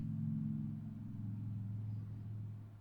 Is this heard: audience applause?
no